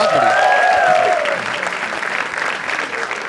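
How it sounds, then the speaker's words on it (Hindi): An audience at a live comedy talent show bursts into loud, dense applause that holds steady for a few seconds, then thins out a little toward the end. "एक बार जोरदार तालियां for him यार।"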